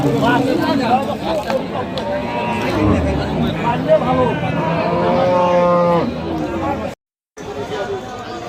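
A dairy cow with her calf at the Kaharol cattle market in Dinajpur lets out a long, loud moo over a busy crowd's chatter and hubbub, followed by a brief drop to silence near the end.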